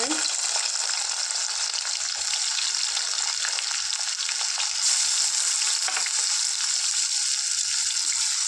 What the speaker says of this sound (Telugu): ఆయిల్ హీట్ అయ్యాక ఆనియన్స్ ఉన్న మిర్చి వేసుకుందాం